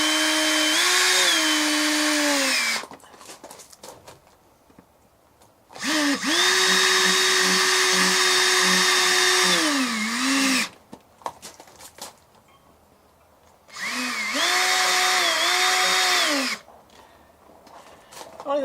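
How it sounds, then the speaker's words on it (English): A power drill drives self-tapping screws into RV skirting in three separate bursts, each a loud whining spin that rises and dips in pitch, with quiet pauses between them. "So these are self-tapping screws."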